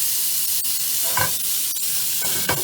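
Mango salsa chicken skewers sizzle on a grill in a steady, close hiss, with a few soft clicks and scrapes from turning them.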